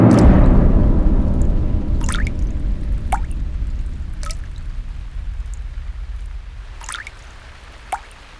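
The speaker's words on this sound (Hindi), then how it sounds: "पानी कहाँ टपक रहा है? लगता है किसी ने नल खुला छोड़ दिया है।" Water drips from a tap that was left running, a slow series of separate plinks that fall at uneven intervals, with a louder splash early on that fades away.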